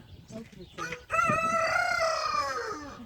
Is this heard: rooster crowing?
yes